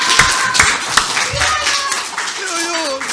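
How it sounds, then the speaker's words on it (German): An audience with children at a reading by an author gives a short burst of clapping, sharp and fairly close at first and then thinning out, while young voices chatter over it. "Ein Applaus für Jojo"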